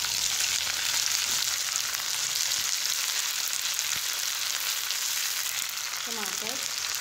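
Steady, loud sizzling of ginger garlic paste frying with onions in hot oil, with an occasional soft clink or stir near the end.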